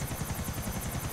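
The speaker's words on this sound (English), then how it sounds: "While you're in your helicopter" A helicopter in Grand Theft Auto IV, its rotor beating in a fast steady chop with a high engine whine, heard quietly and without talk.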